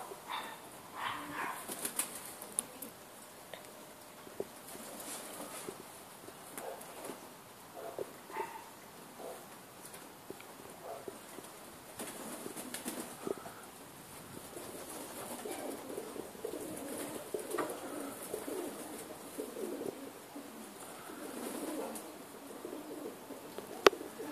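Pigeons land and flap their wings outdoors, with scattered bursts of wingbeats and faint cooing over steady open-air background noise; no one speaks.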